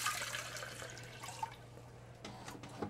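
Water poured in a coffee shop video game, a soft, steady trickling and splashing that stays faint and continuous alongside a low background hum, with no talking.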